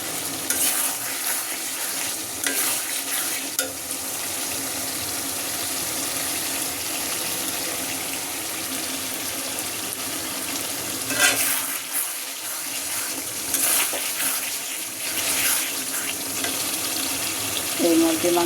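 Chicken fries in a scorched wok with a continuous crackling hiss, broken by occasional louder spatters and brief stirring scrapes, close by, with no speech over it.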